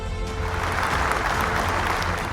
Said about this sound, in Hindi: तो जोरदार तालियों से इनका स्वागत